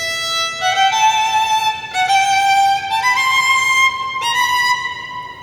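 A solo violin plays a simple, slow melody of sustained bowed notes with gentle slides between pitches, phrases separated by short breaks, clear and close with no voices.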